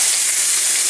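Kale sautéing with garlic in a hot pan gives a steady, close, bright sizzle that crackles evenly throughout, with no voices.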